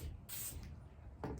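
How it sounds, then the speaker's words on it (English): Seal 1 firearm cleaner and lubricant is sprayed onto a firing pin in two short, soft hissing bursts, the first a little longer than the second, in a quiet room. "give it a little spray,"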